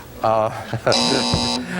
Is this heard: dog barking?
no